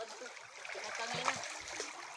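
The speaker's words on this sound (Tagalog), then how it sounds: "Ito, dinadaanan to ng tubig na iniinuman." A stream of drinking water flows and trickles softly, a faint, continuous splashing babble with a voice briefly audible over it.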